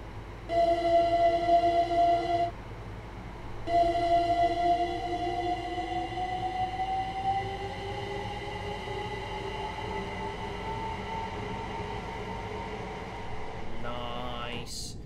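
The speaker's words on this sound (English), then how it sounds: "Let's stick the camera here just so we get the beautiful acceleration sounds." First Capital Connect electric train in Train Sim World 2 accelerating, its traction motors whining in steady tones that climb gradually in pitch, briefly interrupted early on, with a rattling burst near the end.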